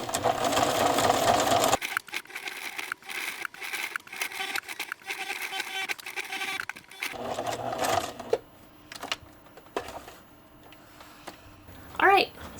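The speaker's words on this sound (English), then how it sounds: "Do a little circle of stitching, straight stitching, nice tight straight stitching right around this circle right in the center" Sewing machine running a tight straight stitch around the centre of a fabric rose, a loud rapid whir at first, then short stop-start bursts of stitching with quiet gaps.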